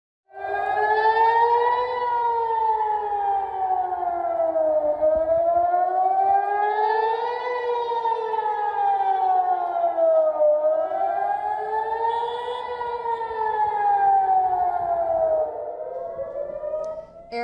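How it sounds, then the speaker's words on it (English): Air raid sirens sound across central Israel, a loud, steady wailing tone rising and falling in long slow sweeps, several cycles heard alone with no talking. "Air raid sirens were sounded in Jerusalem and multiple locations in central Israel."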